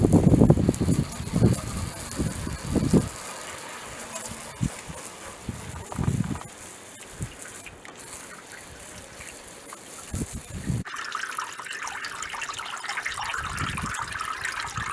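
Water trickles and splashes down newly fitted guttering on a self-build house, a continuous, uneven flow that rises louder toward the end, with occasional bumps and background noise.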